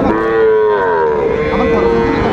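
A Sahiwal bull at a cattle market moos loudly and close by in one long, sustained low call that fills the clip, with no talk over it.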